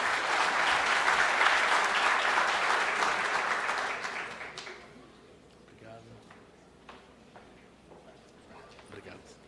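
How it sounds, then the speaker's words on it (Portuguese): Auditorium audience at a corporate investor meeting applauds in a dense burst that fades after about four seconds, followed by scattered claps, shuffling and light movement. "Uma salva de palmas,"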